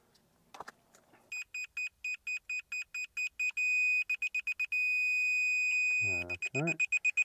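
Repeated electronic beeps from the detector of a green self-levelling laser level, a steady run of short pulses that merge into long continuous tones, with brief talk nearby at the start and end.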